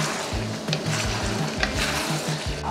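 Shredded chicken pastil seasoned with soy sauce sizzles loudly in a pan while being stirred, the scraping strokes recurring in a steady rhythm up close.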